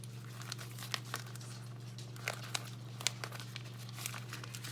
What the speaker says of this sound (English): So we just want to fold it into the inside.